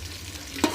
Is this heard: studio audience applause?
no